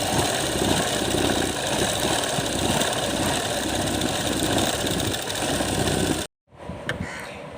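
A sewing machine hums steadily at close range, stitching lace onto a small dress for a Laddu Gopal idol, then stops abruptly and runs again briefly.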